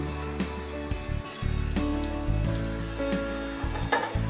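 Cinnamon and whole spices fry in hot oil for an egg masala, a steady close sizzle with occasional pops and stirring clatter, with no talking.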